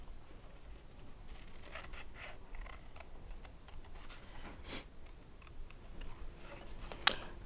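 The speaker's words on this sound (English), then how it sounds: "I'm using our little detail scissors." Small detail scissors fussy-cut stamped paper, making a run of light, quick snips and ticks close by in a quiet room, with a sharper click near the end.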